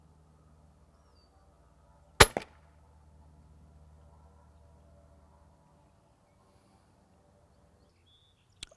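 A single crossbow shot at a target 40 yards off: one sharp loud snap and thwack, a brief second knock just after, then quiet with a low hum, and a faint click at the very end.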